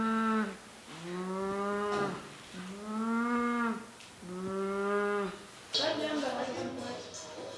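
A child imitates a cow, giving three long, drawn-out moos in a row with short gaps between them, close and clear. A brief burst of other noise follows the last moo.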